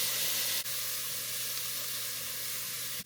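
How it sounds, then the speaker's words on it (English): Diced onion sautés in melted butter in a pan, giving a steady, even sizzle that runs throughout, with one brief dip where the onion is moved or stirred. "tossing in the onion, and I'm going to saute this onion for about 5 minutes"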